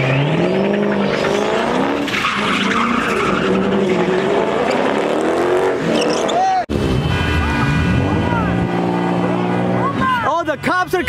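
A Lamborghini and a Rolls Royce do donuts on a freeway in Mexico. Engines rev loudly and tires squeal in long sweeping tones, close and continuous, with a brief cut partway through.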